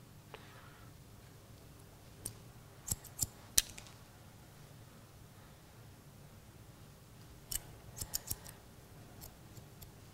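Scissors snipping long curly men's hair during a haircut, heard as a close, quiet cluster of sharp crisp snips early on and another cluster near the end, with soft handling noise between.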